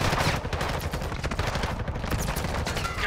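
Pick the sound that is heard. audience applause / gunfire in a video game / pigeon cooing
gunfire in a video game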